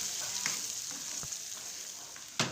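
Chopped onion frying in a pan for chicken keema, a steady close sizzle with faint stirring scrapes and one sharper clack near the end, no voices.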